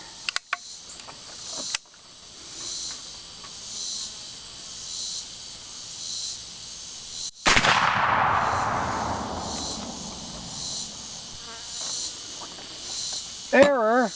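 A .50 caliber Hawken traditional muzzleloader fires a single sharp, loud shot midway through, its blast ringing out and fading slowly, with a few faint clicks and handling noises before and a quieter knock near the end.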